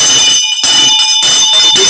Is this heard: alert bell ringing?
yes